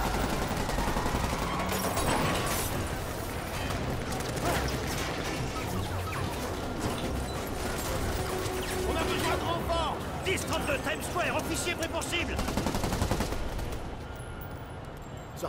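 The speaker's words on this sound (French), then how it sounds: "on entend une fusillade" Gunfire bursts and crashing impacts rattle through a busy combat scene in the video game Marvel's Spider-Man, dense and sustained under constant game noise, with a voice talking over it.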